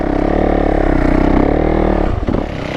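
A Yamaha YZ450F dirt bike fitted with duct-tape-wrapped tires drifting, its loud engine droning and revving steadily up close while the tires scrape, then a brief clattering dip near the end.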